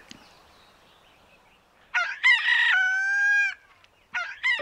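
A cartoon rooster on a farm crows a loud, close cock-a-doodle-doo lasting over a second, and a second crow starts just after a brief pause, against near silence.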